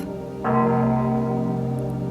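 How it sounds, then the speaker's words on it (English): A single clock bell strikes with a sudden bright onset, then rings on in a sustained, sonorous hum over a low steady drone, in a short excerpt of a bell chiming twelve at midnight. "12 chimes."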